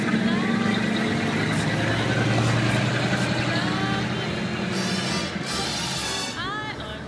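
A 1936 Auburn 852 Boattail Speedster drives along with a loud, steady engine drone, and people talk over it.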